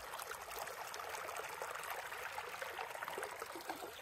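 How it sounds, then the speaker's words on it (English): Water trickles steadily along a small meandering watercourse in the Nevada desert near Gabbs, a continuous soft rushing babble that holds even and unbroken throughout, with no voices. "Relaxing sound of that water though in the desert."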